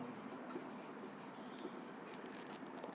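Pen writing a math solution on paper, a steady close scratching and scraping of strokes, quiet and continuous with no one speaking.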